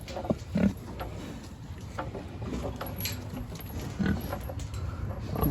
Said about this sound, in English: The pigs have, y'all been rolling in the mud,